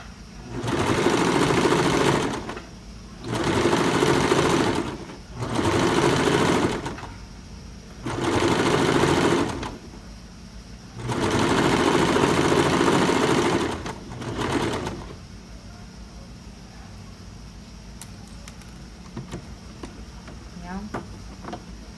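A sewing machine stitches a half-centimetre seam on a blouse in a series of steady runs with short pauses between, then falls quiet to faint handling noise.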